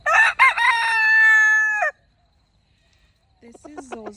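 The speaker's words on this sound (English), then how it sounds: "So these are my brother's roosters." Silkie roosters crowing: one long, loud, close crow lasting nearly two seconds, then silence, and a second, fainter crow starting toward the end.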